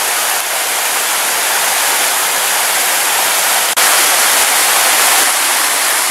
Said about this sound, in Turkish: Şelale şurada bakın. Akıyor.